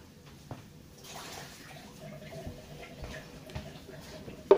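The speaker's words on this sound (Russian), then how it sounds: "солью эту воду и буду дальше проливать" Water is poured through a potted orchid in its growing medium, giving faint trickling and splashing with small ticks and drips. The sound is quiet and irregular, with a sharper clatter at the very end.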